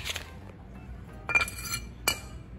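Metal brake disc for a go-kart rear axle being handled, giving a few light metallic clinks and rattles spaced across a couple of seconds against a low background hum.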